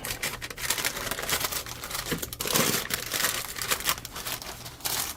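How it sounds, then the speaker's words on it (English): Parchment paper crinkles and crackles as it is wrapped around a bread basket form, a dense, close, continuous rustle with sharper crackling bursts and no talking. "Then we're going to wrap our parchment paper around it."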